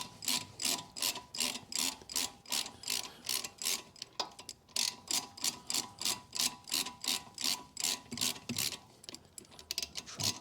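A ratchet works a brake caliper bolt on a 2004 Mini One 1.6 petrol during a front brake disc and pad job, giving a steady run of close, loud clicks in an even rhythm with no talk.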